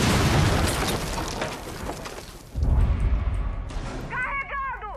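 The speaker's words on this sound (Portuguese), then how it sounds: "Granada frag" A frag grenade blast in the tactical shooter Rainbow Six Siege, a loud boom followed by a second heavy burst midway, with debris rumble trailing off and voices calling out over it.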